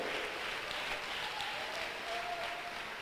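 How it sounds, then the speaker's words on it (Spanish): Steady applause from a church congregation for the living God during a bishop's sermon, a dense even wash of clapping that holds for about three seconds, with a faint tonal sound drifting over it. "Dele un aplauso fuerte al que vive."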